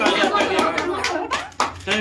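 Hand clapping breaks out in a lively group gathered for a street-food phuchka eating challenge, quick claps mixed with chuckles and overlapping chatter.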